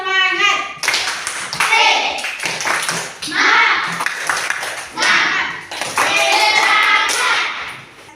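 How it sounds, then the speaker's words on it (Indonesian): A class of children in an Indonesian classroom performs the rhythmic tepuk semangat spirit clap, chanting in unison between clusters of sharp hand claps, loud and close in repeated bursts. "Kita tepuk semangat dulu."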